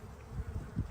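Honeybees hum steadily at a busy hive, a close, dense low buzz that swells and fades as individual bees pass near, with no voices.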